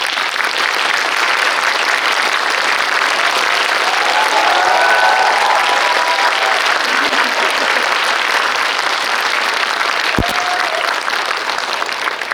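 An indoor audience at a Seoul screening talk gives director Hirokazu Kore-eda a sustained round of loud, dense applause as he comes on stage, a steady roar of clapping for the whole stretch.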